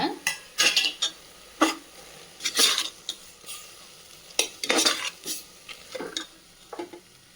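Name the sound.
spices and ground mint-coriander sautéing in a pan for chicken biryani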